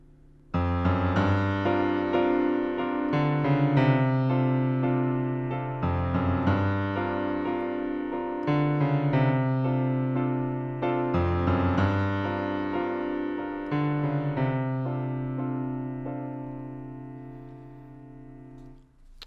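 Piano playing a song, a steady, moderately loud passage of sustained chords with a repeating bass figure and shifting right-hand notes, fading out at the end with no talking.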